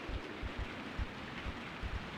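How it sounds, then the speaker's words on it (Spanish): Steady rain falls in the video game Resident Evil 3, a soft constant hiss with faint low thuds repeating beneath it and no one speaking. "Ah, está lloviendo"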